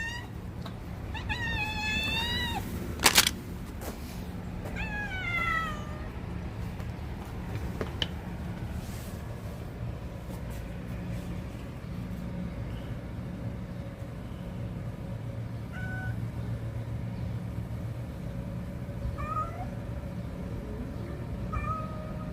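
Cats meowing nearby, several drawn-out, rising meows in the first few seconds, then fainter scattered mews later over a steady low background rumble.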